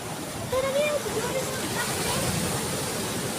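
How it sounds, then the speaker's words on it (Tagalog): Strong high-tide waves break along a rocky beach at Anini-y, Antique, making a loud, unbroken roar of surf that stays steady from start to finish. "high tide yata eh, kaya ang lakas ng mga alon"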